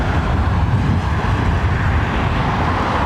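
A KLM Airbus A320 is starting its engines before pushback at Heathrow, giving a close, steady low rumble and rushing roar that stays at an even level throughout.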